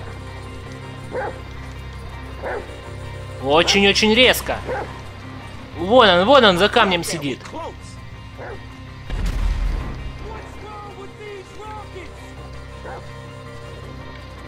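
Dog Chop in GTA V gives two bursts of sharp barks and yips, close and loud, with someone talking over the game sounds.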